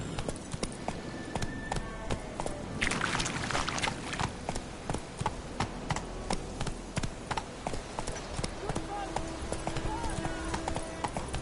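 Horse hooves trot in a steady clip-clop rhythm through the video game The Witcher 3, with a voice speaking over the hoofbeats.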